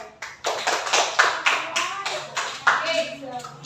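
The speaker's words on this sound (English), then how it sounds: "let's have a round of applause of Jane because she got the perfect score" Classroom applause for a student after a perfect score: a small group of children clapping in uneven bursts for a few seconds, fairly close, with light chatter underneath.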